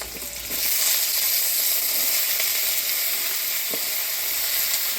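Hyacinth beans drop into hot oil with nigella seeds, chopped onion and green chilli in a kadai, breaking into a loud steady sizzle that holds evenly throughout, with no voices.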